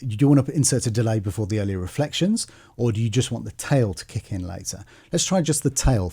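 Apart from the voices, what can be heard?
No distinct noise like a dog, phone or traffic.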